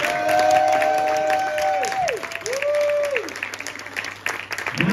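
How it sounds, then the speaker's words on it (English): Audience applause and cheering at a comedy hypnotist show on a seaside pier, sustained clapping with crowd noise and rising, swooping vocal whoops over it, fading toward the end. "give these guys a big round of applause"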